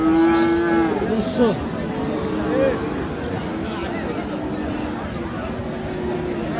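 A cow lets out a long, close moo at a cattle market, followed by a low murmur of voices and crowd noise in the background.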